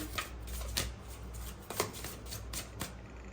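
Tarot cards are shuffled by hand, a soft series of riffling and slapping bursts, close and fairly quiet, with no talking.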